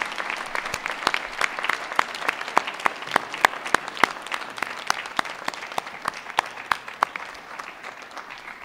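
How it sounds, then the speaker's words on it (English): A graduation audience at a Salford Business School winter ceremony breaks into a sustained round of applause, dense overlapping clapping at a steady level throughout with sharp individual claps standing out, and no talking. "Now please give a round of applause to all those people here and elsewhere who have helped, inspired and encouraged you throughout your journey."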